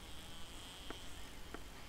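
Giant flies in the survival game 7 Days to Die give off a steady, faint insect buzz that drones throughout, with two brief soft clicks partway through and no talking.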